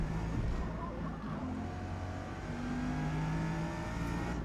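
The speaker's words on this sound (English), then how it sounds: "heavy, heavy braking to go through this second little chicane section. You got to slow down all the way to second gear" A Bugatti Veyron in the Forza Motorsport racing game brakes hard and drops through the gears for a chicane at Le Mans, with a steady engine drone and shifting pitch sweeps, fairly quiet with no talk.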